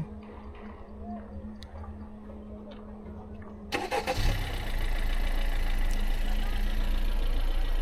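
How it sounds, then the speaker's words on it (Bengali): A 2017 Honda Civic with direct injection starts by remote: a quiet interior hum gives way to the engine cranking and catching, then a steady idle with a faint mechanical ticking, heard close up. "সো এই টিকিং নয়েজটা হচ্ছে ডিরেক্ট ইঞ্জেকশনের সাউন্ড।"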